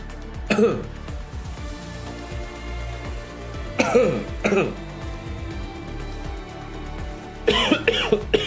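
A person coughing, three separate bursts of harsh close coughs spaced a few seconds apart, each a quick cluster of hacks with quiet background between.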